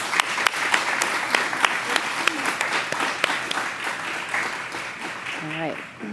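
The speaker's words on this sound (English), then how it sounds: "Round of applause for the panelists." Audience at a climate justice panel applauds the panelists with steady clapping and some sharp individual claps, while a voice speaks over the end as it fades.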